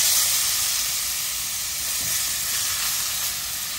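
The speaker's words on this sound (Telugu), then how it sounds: "ఇప్పుడు నేను ఉల్లిపాయ ముక్కలు వేస్తున్నాను" Onion pieces sizzle steadily in hot tempering oil seasoned with asafoetida and turmeric for an Andhra-style okra stew, a loud continuous broadband hiss with no talking.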